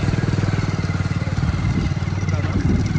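A motorcycle is ridden along a road, its engine running steadily with a continuous pulsing drone from start to finish, close and fairly loud.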